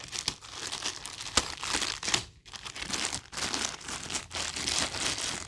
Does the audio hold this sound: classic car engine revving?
no